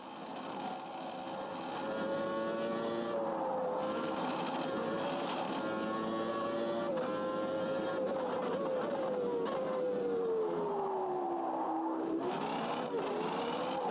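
Race car engine in the Automobilista 2 sim racing game, a continuous high-pitched whine rising and falling through gear changes and revs, loud and close, heard alone without talk.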